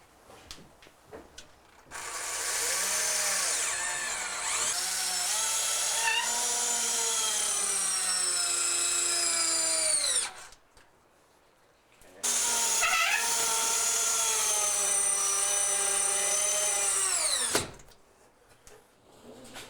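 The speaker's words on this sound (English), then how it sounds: "we're going to use 3-inch drywall screws now to fasten this cabinet to the wall." Power drill driving 3-inch drywall screws to fasten a cabinet to the wall, two long, loud whining runs of the motor, each several seconds, with short quiet pauses between them.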